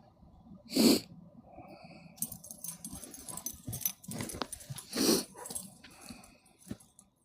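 Huskies playing together in the snow, with two loud snorting, sneeze-like bursts standing out over scuffling, panting and rustling movement nearby.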